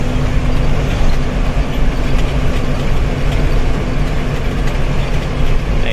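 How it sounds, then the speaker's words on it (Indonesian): Truck drivetrain whining like a turbo from the front transmission area while driving, a loud, steady close drone with a held tonal whine over heavy road rumble. "Nah ini nging, kayak turbo."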